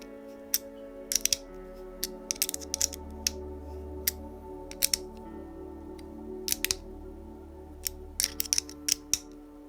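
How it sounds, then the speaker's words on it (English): A box wrench turns a ball connector into a suspension part during an RC car build, a Blockhead Motors HotShot II rear suspension. Faint, sparse, close-up metallic clicks and ticks come in short irregular bursts over a quiet background hum. "So now I can just turn this in, and it should be going in straight, which it is."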